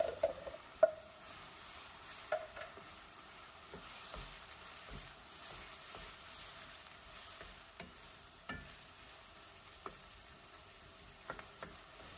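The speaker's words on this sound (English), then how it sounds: "I'm going to add that and give this a mix." A spoon stirs crushed tomatoes into browned sautéed ground meat in a pan, giving faint scraping and sloshing with soft sizzling and scattered light clicks, quiet and close throughout.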